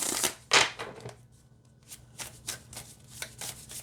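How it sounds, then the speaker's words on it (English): A deck of oracle cards shuffled close by: a loud riffle burst, then a softer pause and a string of quick, light card slaps and flutters. "Yeah, you can shuffle it this way too."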